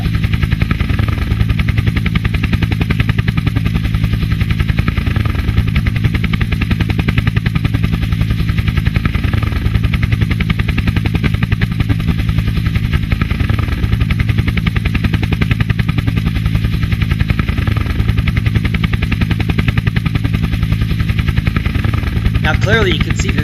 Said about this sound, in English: a flyby of Tal Volcano in a helicopter that sounds to be breaking up